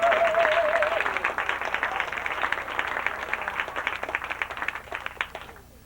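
Audience at the NEFFA 1991 folk festival claps steadily for several seconds, a dense patter that fades out near the end, with a brief held tone at the start.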